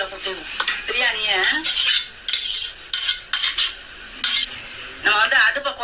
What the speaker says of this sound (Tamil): இப்ப சோறை வந்து இதுல கொட்டிடுவோம்.